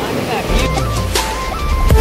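The Pikuwa Khola river stream rushes and roars loudly near a bridge, a continuous broadband rush with some gusty wind noise on the microphone.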